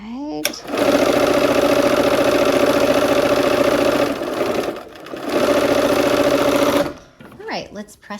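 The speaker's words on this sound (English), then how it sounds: "We're gonna sew these last seams of the blocks." A sewing machine stitches the final seams of Christmas quilt blocks in two long, steady loud runs with a short pause between, then stops; faint handling noises follow.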